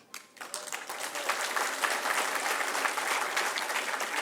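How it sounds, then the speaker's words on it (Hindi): An audience at a lecture breaks into sustained applause that swells quickly and holds steady, a dense crowd of clapping hands. "वाह वाह बहुत अच्छा, तालियां भी बजाई आपने।"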